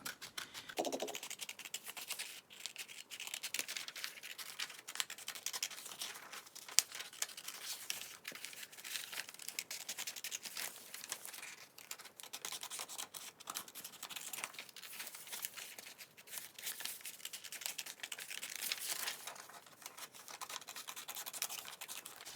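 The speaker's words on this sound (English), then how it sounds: "Next thing you're going to do is you're just going to cut out the hand." Steady scissors snip and scratch through paper while a hand shape is cut out, a continuous close rustle with no voices.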